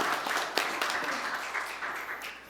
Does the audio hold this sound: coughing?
no